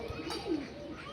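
Panjabi Malwai pigeons give a single soft, low coo, faint and brief against quiet outdoor background.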